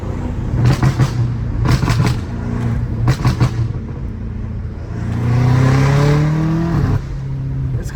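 A BMW M5 Competition with straight-piped exhaust gives several sharp, loud revs. Then a sustained roaring pull rises in pitch before easing off, close and aggressive.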